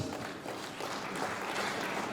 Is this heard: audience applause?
yes